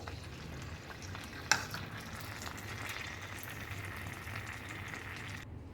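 Curry leaves fry in hot mustard oil for a Goan bilimbi pickle with a continuous, even sizzle at moderate level. A single sharp click cuts in near the start, and no one speaks.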